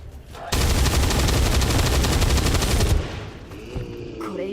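A loud, dense burst of automatic gunfire in the video game XCOM 2, starting abruptly and roaring steadily for about two and a half seconds before cutting off, followed by quieter game sounds.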